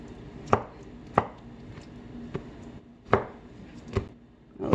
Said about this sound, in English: I'm just going to give them a rough chop